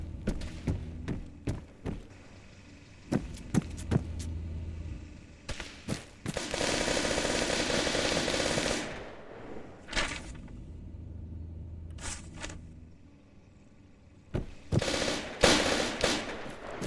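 Bursts of rapid gunfire and single shots crack out during a team combat training exercise, with clustered volleys, a sustained roaring stretch of firing, and scattered thuds and pauses between them.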